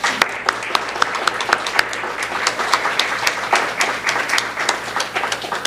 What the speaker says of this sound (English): Please join me in a round of applause for our candidates.